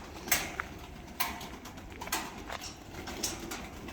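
Young pigeons of an American show breed in a coop, with soft faint cooing and scattered sharp clicks and flutters throughout.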